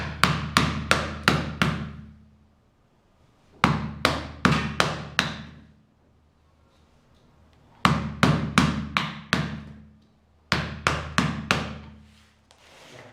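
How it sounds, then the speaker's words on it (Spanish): A wood carving is roughed out with a saw, heard as four clusters of quick, loud, close blows, each burst of about five sharp strikes separated by short silences. "Vamos desbastando, quitando ese material con esos golpes de serrucho."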